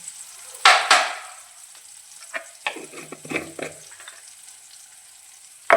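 Okra frying in a pan with chili, as a crackling sizzle with stirring and scraping. Sharp bursts come as ingredients hit the hot oil, and the sizzling goes on close and fairly loud with no voices.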